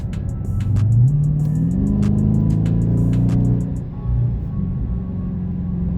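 A 2021 Dodge Charger 392 Scatpack Widebody V8 pulls hard, its engine note climbing steeply in a loud, close roar before easing off and settling into a lower rumble as the car coasts.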